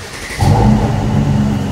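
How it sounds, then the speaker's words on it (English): A Mercedes-AMG C 43 Coupe engine starts with a brief crank, then catches into a loud, steady idle rumble close by, with no one talking. "let's just start this up so you lot can hear"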